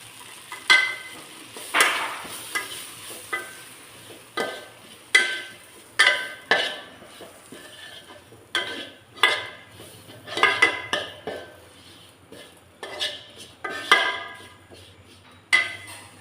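Chili powder being stirred in a pan while cooking sardine curry, a faint sizzle under repeated sharp metal spoon scrapes and clinks against the pan in an irregular rhythm, close and without talk.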